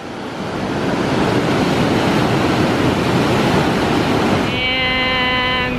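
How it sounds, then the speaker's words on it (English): A Yosemite waterfall roars at the top of the falls as a loud, unbroken rush of water, with a brief tonal sound appearing near the end. "Literally the top of the falls. That's the water."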